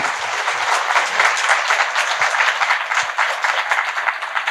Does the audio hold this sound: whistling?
no